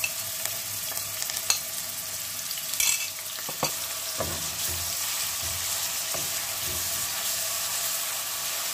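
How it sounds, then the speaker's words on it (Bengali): Grated onion paste frying in hot oil for a green tomato and small fish curry, a low continuous hiss under scattered spatula scrapes and a few louder clatters, heard close with no speech. "তেল গরম হয়ে গেছে, এখন আমি পেঁয়াজ দিয়া দিব"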